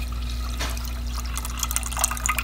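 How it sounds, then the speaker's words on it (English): Leftover dill pickle juice is poured into a cooking pot, giving a soft trickling and splashing liquid pour over a steady low hum, close and moderately quiet, with no talking. "since I have leftover pickle juice, I'll just pour that right in with it"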